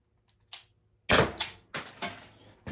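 Sharp shots from a Byrna launcher, one loud crack followed by several quicker reports in an uneven burst, close and with no talk over them.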